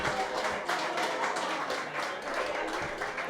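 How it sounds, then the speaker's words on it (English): An audience gives a round of applause at a 2019 festival event in Decorah, a steady, dense wash of many hands clapping together without a break. "Let's give Kristen and Ben another round of applause."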